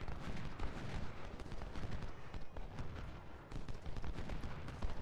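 Scattered rifle gunfire in a Civil War battle game at Cedar Mountain, a dense, faint crackle of many rapid overlapping shots from the flank, steady and distant throughout.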